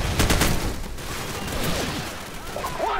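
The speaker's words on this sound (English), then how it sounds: "I'm just gonna shoot this guy right here." Rapid bursts of automatic gunfire crackle in Call of Duty 4, dense and loud, with shots overlapping throughout the short stretch.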